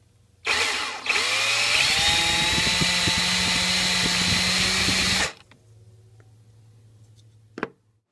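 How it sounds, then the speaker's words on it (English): A power drill spins a hole punch to cut the eye of a carved wooden fish, a loud, steady high whine lasting about five seconds before stopping abruptly, followed by a quiet hum and a brief click. "you can use a hole punch and chuck it up in your drill and then use it to cut the stop cut for the eye"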